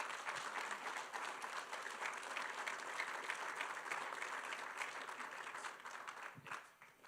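Sustained applause from a seated conference audience in a meeting room after a general session talk, many hands clapping evenly before it tapers off near the end.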